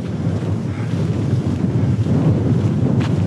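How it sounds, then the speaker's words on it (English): Strong wind on an open hillside at a large UK landslide site, a loud continuous roaring gust that buffets the microphone with deep rumble, steady throughout, no talking. "Windy out here though."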